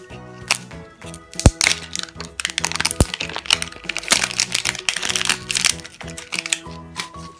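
A plastic surprise egg is cracked and pried open up close, with sharp snapping cracks and crinkly plastic handling over several seconds, no talking.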